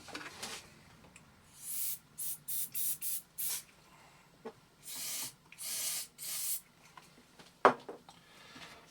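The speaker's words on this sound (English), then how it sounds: "Let's try getting a bit of switch cleaner in there." Switch cleaner sprayed into the switch of a Makita MBR102 site radio under repair, in a string of short close hissing bursts of varying length, with a sharp knock near the end.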